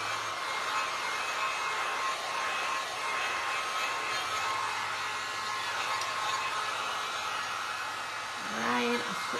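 A hair dryer blows steadily up close, a continuous loud whooshing hum while drying paint on a glass and resin pumpkin, with a brief voice near the end.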